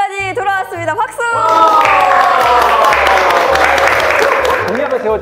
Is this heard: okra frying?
no